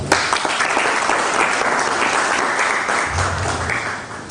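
A loud, dense burst of audience applause at a news event, sustained clapping from a large crowd that stays strong throughout and eases slightly toward the end.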